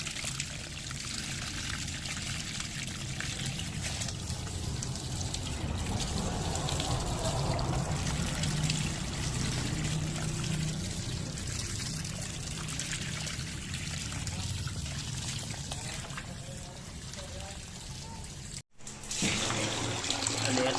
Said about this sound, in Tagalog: Ito na yung backwash ng water softener.